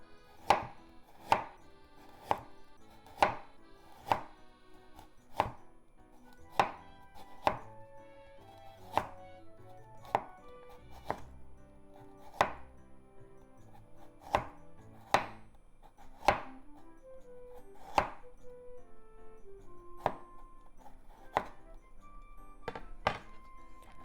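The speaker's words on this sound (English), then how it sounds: "Let's make it into thin slices first." A knife chops ginger into thin slices on a cutting board, giving about twenty crisp, evenly paced thunks close by, with no voices.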